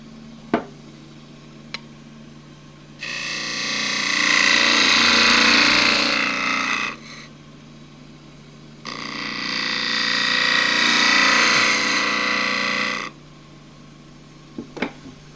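A wood lathe spins while a turning tool undercuts a wooden glasses stand, giving two long, loud, rough scraping cuts separated by a pause, with sharp taps before and after and a steady motor hum underneath.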